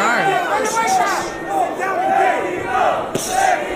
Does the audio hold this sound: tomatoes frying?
no